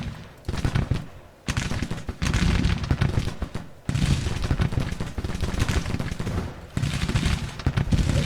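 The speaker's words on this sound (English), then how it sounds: "Butterfield's pickets firing" Musket fire from pickets in the Civil War strategy game Grand Tactician: Civil War comes as repeated crackling volleys and bursts, with short gaps between them and no speech.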